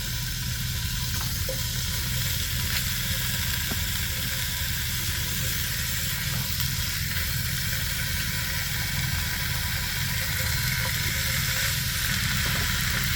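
Pork belly fries in a pan with chili paste, a loud, continuous close-up sizzle with a steady crackling hiss and faint stirring scrapes, no voices.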